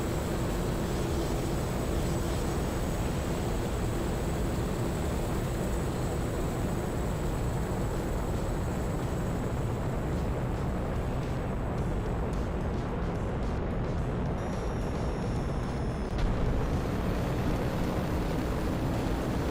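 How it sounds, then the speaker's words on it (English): Spacecraft thrusters running at full power in the video game Cornucopias, a steady, loud, broadband roar that holds constant throughout with a brief swell near the end. "I'm trying to go full thrusters right off the bat"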